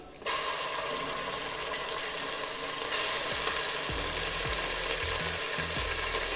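Ginger garlic paste fries in a pan for chicken pulao, a steady close sizzle throughout with a few low knocks and scrapes of stirring toward the end, no talking.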